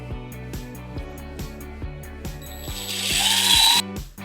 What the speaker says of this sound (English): then we'll tighten it up using a 10mm socket